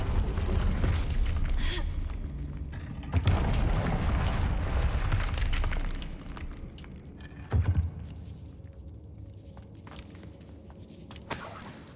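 Explosive Confringo spell cast in the game Hogwarts Legacy, a deep booming blast with a crackling rumble that fades over several seconds, followed by scattered thuds and smaller pops, fairly quiet overall with no speech.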